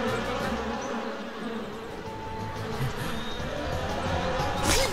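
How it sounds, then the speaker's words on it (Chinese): Swarming wasps in a Boonie Bears cartoon, a loud, dense buzzing drone that persists throughout with a rising whoosh at the end, close and without speech. "马蜂，救命啊！"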